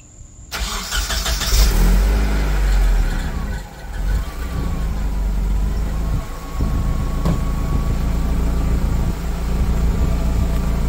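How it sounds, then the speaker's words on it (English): A 720 pickup truck with a new exhaust cold-starts, cranking and firing up, roaring loudly before settling into a steady, rumbling idle close by. "that's a quick cold start"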